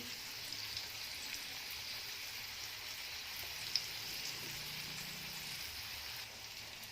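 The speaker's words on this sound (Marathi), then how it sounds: "फ्राय आहे ही मच्छी आहे ती तव्यामध्ये घालून झालेली आहे" Soft, even sizzling of karli fish frying on a hot griddle over a slow flame, steady and fairly quiet, with one small pop midway.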